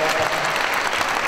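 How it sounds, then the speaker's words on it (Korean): Congregation at a church funeral and memorial service breaks into steady, dense applause, a close, even wash of many hands clapping without pause. "여러분 박수해 주세요."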